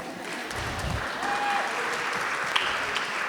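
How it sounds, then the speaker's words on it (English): Audience applause at an evening community meeting, a dense steady patter of many hands clapping in a hall, moderately loud and unbroken. "You can clap for me, I'll take it."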